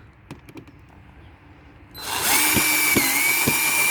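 A power drill drives screws into the cargo bed of a 24V RealTree ride-on toy: a few light taps, then a loud sustained high whine from the drill with slight pitch dips as it bites.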